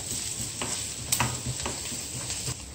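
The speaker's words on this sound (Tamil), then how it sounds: "வெங்காயம் நல்லா வதங்கட்டும்" Chopped onions sauté in a pan for Tamil avarakkai poriyal, a steady close sizzle and hiss with a few soft stirring scrapes, no voices over it.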